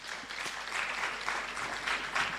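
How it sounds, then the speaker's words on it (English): A crowd at a renewable energy conference and expo applauds with full, steady clapping that stays loud and even throughout, with no speech over it. "can we give her a very big applause?"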